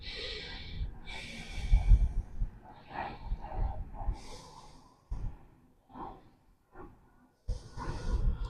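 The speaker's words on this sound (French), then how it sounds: "Étire ton souffle, plusieurs respirations ici." Deep, slow yoga breathing during a vinyasa session, long airy inhales and exhales through the nose, close and fairly quiet, with short pauses of near silence between breaths.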